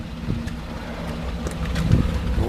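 2011 Cadillac Escalade ESV with a 6.2 liter engine idling, a steady low rumble with some wind noise over it, close and alone with no talk.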